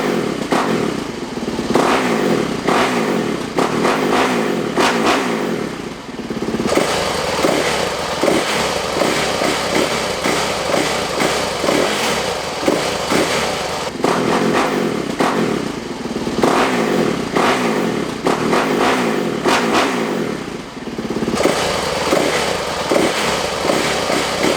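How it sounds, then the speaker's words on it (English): A Yamaha WR450F dirt bike fitted with a full exhaust revs hard and loud, with repeated throttle blips rising and falling and a rough, raspy engine note that runs steadily throughout. "It's louder for sure, and then you can just feel how now the bike really wants to rev"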